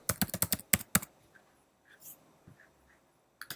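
A short burst of quick, close keystrokes on a computer keyboard while a password is typed during a MySQL Server setup, then quiet with faint clicks and one more brief pair of taps at the end.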